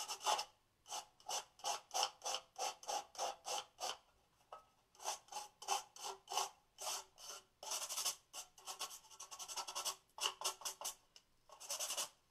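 Sandpaper rasping over a painted tin can, the color scuffed off in quick repeated strokes, close and fairly loud, with brief pauses between bursts and no talking.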